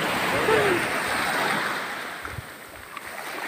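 Waves roll onto a sea beach at Puri, Odisha, a close, steady rush of surf that swells early and then eases slightly, with a few faint knocks.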